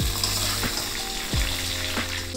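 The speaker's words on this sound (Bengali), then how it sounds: "তারপরে মূলো আর কুমড়ো। এবার সব কটা সবজি একটু খুব ভালো করে নেড়ে কুক করে নেব।" Mixed vegetables including radish and pumpkin sizzle as they are stir-fried in a pan for a vegetarian labra, with a steady hiss and a few scraping stirs up close.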